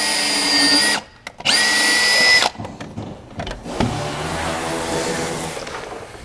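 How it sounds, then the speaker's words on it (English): Electric drill boring a small pilot hole through thick rubber during a gauge and wiring install in a V8-swapped Jeep Wrangler; two loud whining bursts of the motor, then rougher grinding and handling noise as the bit works through. "We're going to drill a hole right here to put all our wires through."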